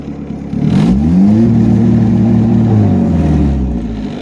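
A turbocharged Honda Integra engine, still cold, free-revs up to about 3,500 rpm with rolling anti-lag engaged, the note rising from a low idle into a loud, sustained, steady drone before easing off near the end.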